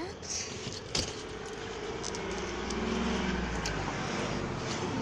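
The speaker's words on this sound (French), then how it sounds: "Et vous allez entendre des voitures et blablabla." Cars passing along a city street, a low steady roadway rumble that swells toward the end, with faint jingling nearby and a voice talking over it.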